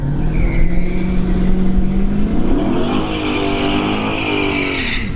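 A G-body car at a drag strip during test-and-tune runs, its engine droning steadily before the revs climb sharply, then holding a high, loud, racing whine over crowd and track ambience.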